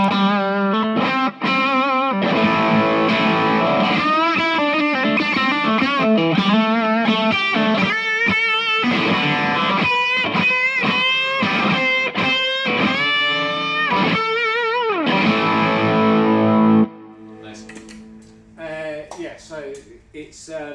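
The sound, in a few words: electric guitar through overdrive pedal, then boosted drive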